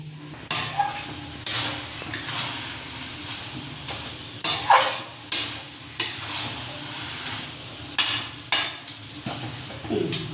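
Red amaranth greens being stirred in a frying pan, a soft continuous sizzle broken by regular scraping and knocking strokes of a spoon roughly every second.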